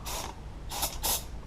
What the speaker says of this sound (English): here's some general AutoZone brake cleaner. So I'm going to spray this just a little bit